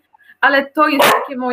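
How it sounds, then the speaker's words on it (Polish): A dog barks two or three sharp times at close range, with someone speaking over and between the barks. "o Jezus, przepraszam za mojego psa"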